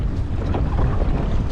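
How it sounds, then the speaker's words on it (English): Strong wind on the water during a kayak fishing outing, a steady roaring buffet of gusts hitting the microphone, loud and continuous with no voices. "It's windy."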